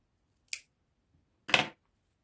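Scissors snip through fabric while a sewn top is finished, two short crisp cuts about a second apart, close and clear in an otherwise quiet room.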